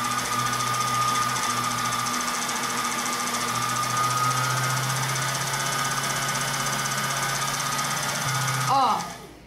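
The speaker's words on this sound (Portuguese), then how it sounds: "Olha a velocidade que essa máquina tem." A Singer Facilita 248 sewing machine winding a bobbin, a loud continuous high-speed motor drone held steady for several seconds before winding down at the end, close up.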